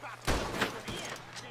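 Rifle shots ring out in Red Dead Online, a few sharp cracks spaced irregularly across a short stretch of ambient game noise, moderately loud against the background.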